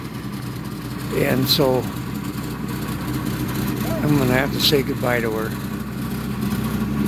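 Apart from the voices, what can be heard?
car engine running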